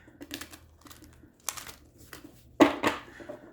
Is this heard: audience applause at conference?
no